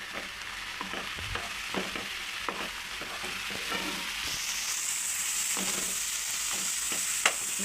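Boiled prawns being stirred into a curry in a pan, a steady close sizzle with repeated scraping strokes of a spoon in a rhythmic pattern, the hiss growing brighter partway through.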